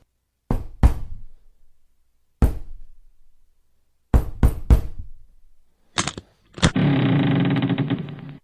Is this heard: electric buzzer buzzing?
no